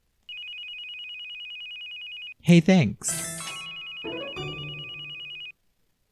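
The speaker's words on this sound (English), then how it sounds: "that phone ring is gonna make my..." A telephone ringtone in the Sims 2 for PSP rings as a steady electronic trill, broken by brief game sounds and a short spoken line, then resumes ringing until it stops.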